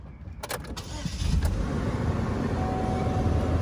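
A 2007 Pontiac G5 small car starts up with a brief cranking burst, then catches and settles into a steady, close idle hum that holds to the end.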